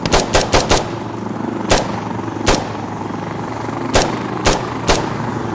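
Gunfire in the video game Insurgency: Sandstorm: sharp, loud shots in a quick burst of four or five at the start, then single spaced shots every second or so over a steady low background hum.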